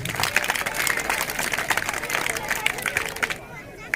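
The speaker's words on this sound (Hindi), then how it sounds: "सभी लोगों से आग्रह करूँगा कि उनके लिए जोरदार तालियां बजाएं" Audience applause at a school prize-giving honoring meritorious girls, steady dense clapping from a crowd with some murmuring, thinning out near the end.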